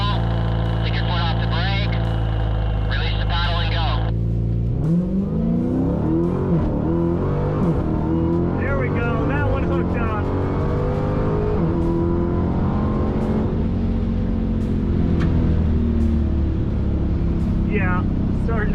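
A Dodge Demon launches down a drag strip at a racing school: after a few seconds of idle and faint voices, the engine surges into a loud, sustained rising roar that holds steady and close for the rest of the run.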